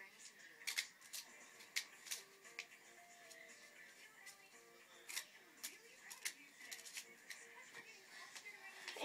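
Scissors cutting paper while a paper airplane is made, heard as quiet, irregular snipping clicks close by, with a soft voice faintly present beneath.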